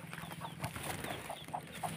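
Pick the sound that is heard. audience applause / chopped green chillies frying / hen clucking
hen clucking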